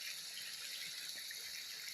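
Water running steadily at a tropical hot spring resort, a soft, even hiss of flow with no pauses, heard alone and fairly faint.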